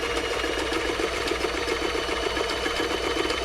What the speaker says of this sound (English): Okay, so we'll start up on a straight stitch.